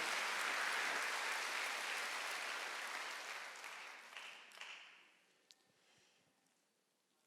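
A church congregation applauds during a Sunday worship service at a Korean church, broad steady clapping that fades away over the last few seconds, with no talk.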